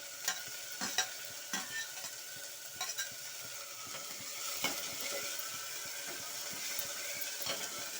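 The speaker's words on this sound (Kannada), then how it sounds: "ಎಣ್ಣೆಯಲ್ಲಿ ಚೆನ್ನಾಗಿ ಫ್ರೈ ಆಗಬೇಕಿದು" Chopped coriander, curry leaves and mint frying in oil, a soft steady sizzle with repeated light scraping and tapping of a spatula against the pan, fairly quiet and without speech.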